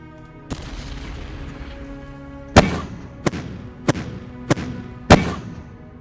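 Artillery fire in the WWII strategy game Decisive Campaigns: Ardennes Offensive, set in the Ardennes in December 1944: five sharp, loud booms spaced about a second apart over a steady low game background rumble.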